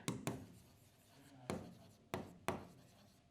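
Marker or chalk strokes on a classroom board during an English grammar lesson, a few short scratchy bursts spaced unevenly, close and fairly quiet with no talking.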